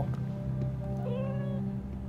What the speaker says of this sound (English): We have a cat, everybody.